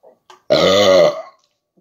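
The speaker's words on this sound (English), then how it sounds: "42-year-old burp. This is your grandfather's burp." A single loud, drawn-out burp, about three-quarters of a second long, comes right after someone chugs a 42-year-old can of Billy Beer. It is close-up and stands alone, with a couple of faint small sounds before it.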